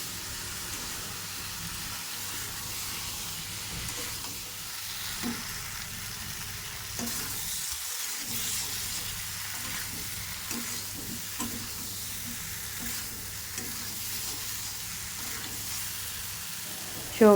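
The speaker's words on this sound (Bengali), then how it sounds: "সবজি ভাজা হয়ে গেছে," Vegetables, including cucumber-like kankur, frying in a pan for a curry, with a steady sizzling hiss and occasional stirring scrapes throughout, no talking.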